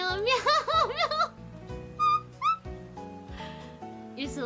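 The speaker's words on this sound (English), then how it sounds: "this is the song from Cats on DS" A song from the Cats video game on Nintendo DS plays, with repeated sung meowing phrases in rising and falling melodic bursts over a steady electronic backing beat.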